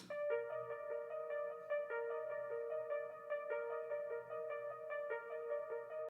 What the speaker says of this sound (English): I then went back to the Best Friend again and played this arpeggio throughout the entire chord progression.